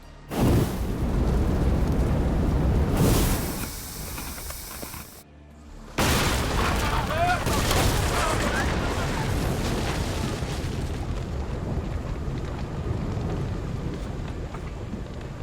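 Cannons firing and shells exploding in a naval battle from the video game Assassin's Creed Odyssey: a loud rumbling blast, a brief drop, then another heavy boom rolling into a long, sustained roar of noise.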